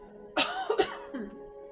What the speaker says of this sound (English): Just so you know, I cough when I channel,